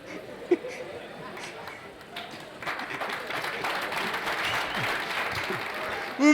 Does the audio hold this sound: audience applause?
yes